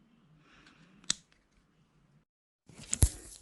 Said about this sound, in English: trim the tag with the braid scissors